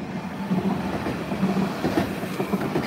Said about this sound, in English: this is the 1226 Nottingham Express Transit Service for Hucknall, tram 237